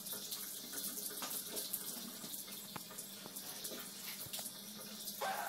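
Shower water running steadily, a continuous hissing spray close by with faint clatters and knocks underneath, and no speech.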